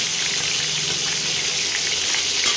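Pieces of chicken frying in hot oil for a green chicken dish give a loud, steady, crackling sizzle, close up and unbroken, with no voices over it.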